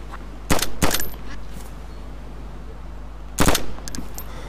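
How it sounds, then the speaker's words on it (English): Gunfire in the video game DayZ: two quick sharp shots, a pause, then another close pair of shots, loud against a low background hum with no talk. "I'm shooting on sight, Ali."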